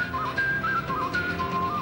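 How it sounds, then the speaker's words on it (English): A man whistles loudly and shrilly in a playful warbling tune, bright sustained notes that slide up and down, near and clear over a busy room-like background. "There's only one man who can whistle like that."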